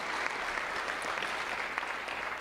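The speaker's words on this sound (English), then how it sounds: "Give him a round of applause." An audience at a high school football ceremony applauds for Naki, a dense steady burst of clapping from many hands that holds at an even level from start to finish.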